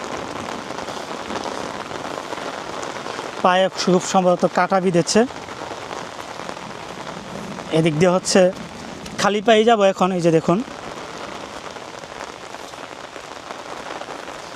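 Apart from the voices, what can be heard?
rain falling near the Meghna river bank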